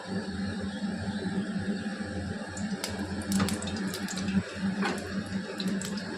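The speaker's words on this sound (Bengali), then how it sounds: "শুটকিগুলি ভালো করে ধুয়ে নেব" Dried fish (shutki) being washed under a steady stream of running tap water, a constant rushing splash with a few sharper splashes of handling partway through.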